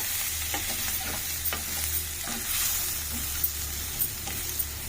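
Onions and bitter gourd fry in a pan of oil, a soft continuous sizzle broken by light scraping and stirring taps at irregular moments, quiet and close.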